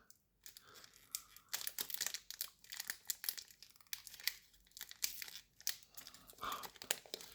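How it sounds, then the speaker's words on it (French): A glued Magic: The Gathering Final Fantasy booster pack is torn and crinkled open by hand, its foil wrapper giving repeated close, sharp crackling rips in uneven bursts, with no talking. "Ils sont horribles à déchirer, ces boosters."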